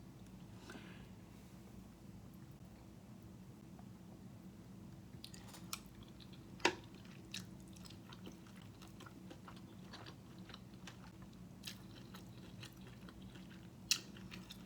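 Soft, faint chewing of sausage, cucumbers and rice with a few crisp bites, close to the microphone over a steady low background hum.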